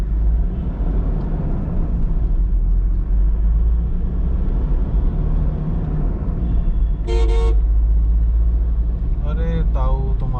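A Toyota Innova pulls away in first gear with a loud, steady engine drone, and two short car-horn toots sound near the end.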